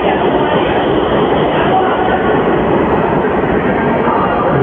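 An Agra metro train pulling away from the station makes a loud, steady, broad rushing roar that runs unbroken, with no clear voices over it.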